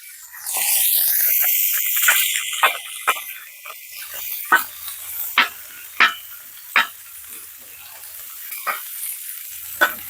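Caramelized onions sizzling in olive oil on a Blackstone griddle set to low heat, a steady close frying hiss with several sharp spatula scrapes and taps scattered through it, no talking.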